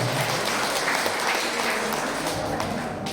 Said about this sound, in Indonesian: Tepuk tangan untuk PD Santa Maria.